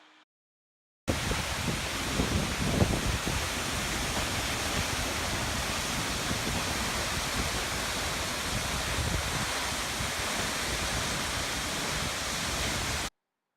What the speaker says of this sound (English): We then continued driving farther east to the Seljandafoss waterfall.